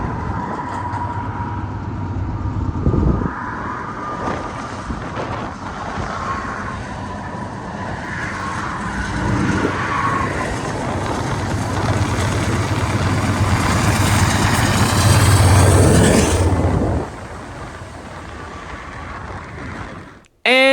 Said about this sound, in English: another BNSF freight pulled in with an H2-9 leading and GEVO in second